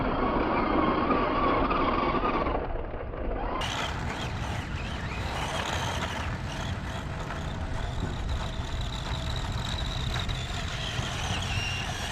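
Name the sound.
Tamiya Sand Scorcher RC car driving and sliding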